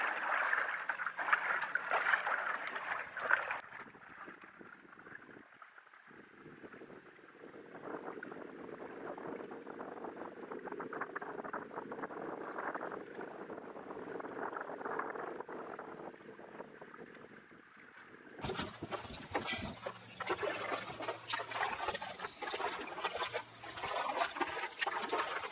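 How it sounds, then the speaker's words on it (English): Wind buffeting and rushing water around a Cruiser SUP Performer paddleboard heading upwind, a steady broadband rumble that grows louder and harsher toward the end, with no voices. "When you're going against the wind, you hear a little bit of a noise."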